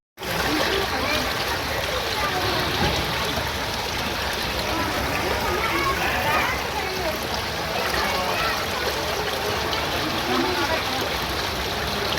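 Sewage water streams steadily around a hill fort, a continuous broadband rush of flowing water that stays loud and even throughout, with faint voices mixed beneath it.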